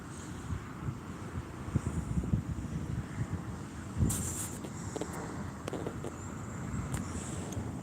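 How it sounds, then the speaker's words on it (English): Steady wind gusts blowing outdoors in Las Vegas, a continuous low rushing roar buffeting the microphone, with a few brief brighter rustles and no talking. "The wind's calming down."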